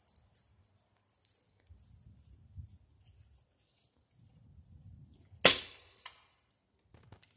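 A single sharp report from a Gamo Whisper Fusion Mach 1 .22 air rifle fired at a target about 90 yards away, loud and close, set against quiet outdoor background with faint low rumbles and rustling before and after.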